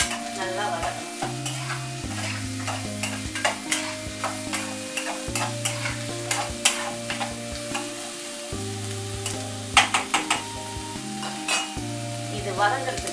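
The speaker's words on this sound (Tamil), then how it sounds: "இப்போ நம்ம வந்து இந்த வெங்காயத்தை இதில் வந்து நம்ம சேர்த்து நல்லா வதக்கணும்." Onions sautéing in hot oil in a pan for prawn thokku, a steady close sizzle with repeated scraping and clinking stirs of a metal spoon, mixed with background music.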